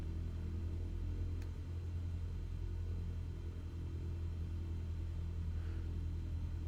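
A small airplane engine runs up to about 1,000 RPM on the ground in Alaska, a steady, deep droning rumble held at an even pace with no voices over it.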